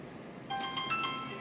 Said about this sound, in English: Sorry for the phone call, but they happen, right?